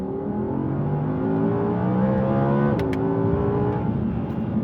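Audi R8 fitted with a Milltek exhaust, valves shut in dynamic mode, revving steadily with rising harmonic engine tones and a brief gear-shift dip partway through; close, continuous and loud, with no talk.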